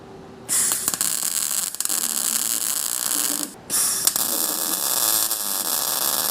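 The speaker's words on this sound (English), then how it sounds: "So I think we'll do a couple tacks around the side and then finish welding it" Welding tacks on a thick exhaust flange: a loud, close, steady crackling hiss and buzz of an arc, broken by a brief pause before a second tack starts, no talk.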